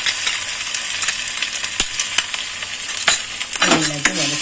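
Spices with ginger, asafoetida and pepper powder stir-fried in a pan, a steady bright sizzle broken by sharp scraping clinks of a spoon against metal, close and without talk.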